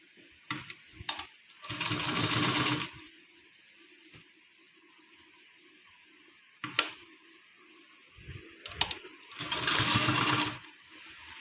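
A domestic sewing machine stitching fabric in two bursts of rapid mechanical whirring, each about a second long, separated by quieter clicks and handling of the cloth, with no talking.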